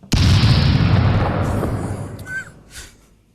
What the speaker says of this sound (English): that bomb wasn't loud enough